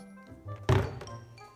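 A single heavy thump on a floor, as if from someone jumping, lands abruptly in a quiet room and then fades into a short dull resonance.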